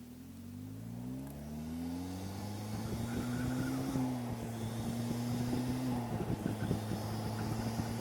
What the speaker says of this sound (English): I can hear that turbo.